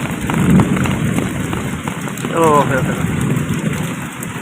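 Heavy rain pours in Jeddah, Saudi Arabia, with thunder and lightning around, a steady broadband hiss, close and loud, with a brief voice and a faint chirp heard over it.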